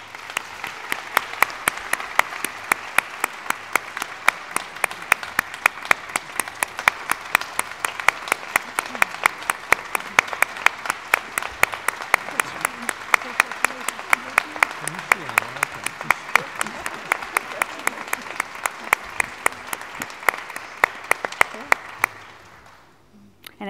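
Sustained applause from a large audience at the 2017 International Nurse Researcher Hall of Fame induction ceremony in Dublin, dense, even clapping that carries on steadily for over twenty seconds before cutting off.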